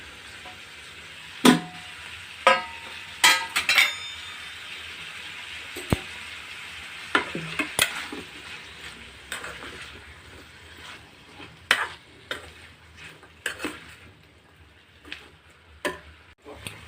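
Vegetables stir-fry in a pan for Goan prawns chilly, with sharp spatula clinks and taps spaced unevenly over a faint, low sizzle.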